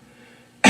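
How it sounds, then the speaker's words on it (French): One forceful cough bursts out abruptly after a near-silent pause, loud and close at the very end. "commencer tousser avec force, avec vigueur et continuer à tousser vigoureusement"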